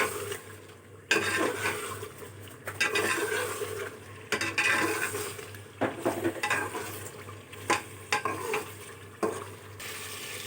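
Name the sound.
chicken leg pieces frying in masala, stirred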